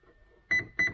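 A Sonicwake V2 electronic speed controller beeps twice during programming, each a short bright electronic tone about a third of a second apart, with a faint steady whine beneath.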